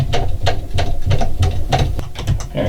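A bow vise is cranked tight on a compound bow's limb, giving a steady run of close, loud ratcheting clicks at a quick, even rhythm that lasts throughout.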